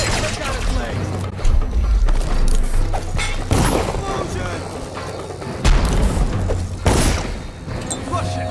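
Several loud booming explosions burst at intervals over a busy background of clattering action and voices in the video game Dishonored.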